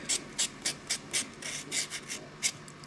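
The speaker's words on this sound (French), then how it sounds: "Voilà, je lime." A fingernail being filed with a nail file: about ten soft, rhythmic rasping strokes, each a short, dry scratch repeated at an even pace, close and fairly quiet with no talking.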